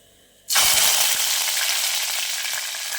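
Curry leaves dropped into hot oil with popped mustard seeds while cooking a Kerala fish curry, silence then an abrupt loud burst of crackling sizzle that holds steady and close.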